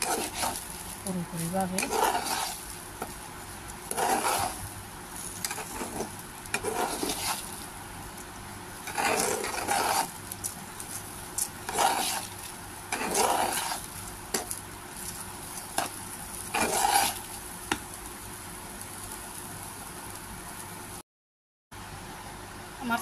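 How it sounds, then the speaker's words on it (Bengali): Half-fried rice sizzling in oil in a pan with a little ginger and garlic paste, for pulao, with repeated bursts of stirring and frying noise while someone talks briefly. "এগুলো দিয়ে আবার চাউলগুলো ভেজে নিব"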